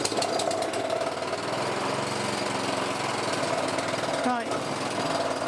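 A Kawasaki lawn mower engine, running hot and fuel-rich and a little lumpy, drones steadily and loudly close by throughout, with a brief rising whine near the end.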